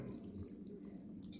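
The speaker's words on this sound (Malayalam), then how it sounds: "ഇനി ആവശ്യത്തിനുള്ള വെള്ളവും ഒഴിക്കാം." Water runs steadily into a cooking pot for pineapple pachadi, a short, soft, continuous pour with no talk.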